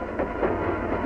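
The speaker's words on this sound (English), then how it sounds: "A salvage train follows," A salvage train carrying repairmen rolls along railroad tracks, a steady low rumble of wheels and cars running continuously throughout, moderately loud and close.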